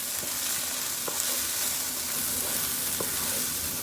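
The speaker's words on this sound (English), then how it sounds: "go ahead and start swirling around and getting those brown bits up" Sautéed garlic and onion sizzle steadily in a pan, with a few distinct scrapes as a utensil stirs and lifts browned bits from the bottom, close and fairly quiet.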